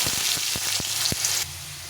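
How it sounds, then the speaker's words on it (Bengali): Potatoes frying in hot oil with a dried red chilli and nigella seeds, a steady close sizzle with a few sharp pops and crackles that drops to a quieter hiss near the end. "একটা শুকনো লঙ্কা দিয়ে দিলাম, আর বেশ কিছুটা কালো জিরে দিয়ে আলুগুলো ভেজে নেব।"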